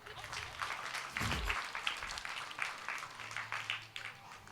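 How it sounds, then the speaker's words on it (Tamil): Scattered applause from an audience, steady patter of clapping that swells briefly, with a low voice murmuring underneath. "அவங்களுக்கும் ஒரு கைத்தட்டலாம்"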